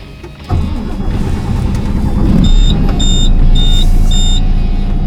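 A KAMAZ 54901 truck engine cranks and fires after a brief quiet moment, then settles into a loud, steady close idle while a series of high electronic beeps chime over it.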